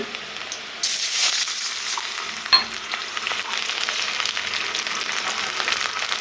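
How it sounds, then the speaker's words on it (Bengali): Spice paste fries in a pan for pangas fish bhuna. A loud, steady sizzle starts after a quiet moment, with one sharp utensil knock midway and crackling spatter throughout. "তারপর পেস্টটা ভাজা ভাজা হয়ে গেছে"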